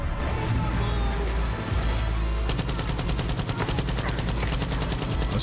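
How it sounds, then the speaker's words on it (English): Rapid bursts of video game gunfire, dense and loud, with a steady automatic-weapon rattle taking over midway and continuing to the end. "I don't know where I'm getting shot from."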